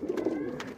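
A pigeon coos low and soft in a short burst among a kept flock, close and fairly quiet, with no voices.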